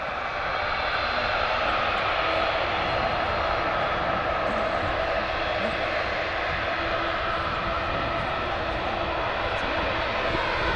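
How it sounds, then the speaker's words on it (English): Emirates Airbus A380-800 taxiing at Manchester Airport, a loud, continuous broadband roar of jet engines filling the whole clip, steady and near with no pauses. "Get ready for an awesome view of the Emirates A380-800 taxiing past us."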